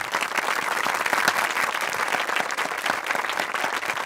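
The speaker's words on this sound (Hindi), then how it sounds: "तालियां।" Continuous, brisk clapping from an assembled group in a Hindi police action film scene, many hands at once, even and fairly loud throughout with no voices on top.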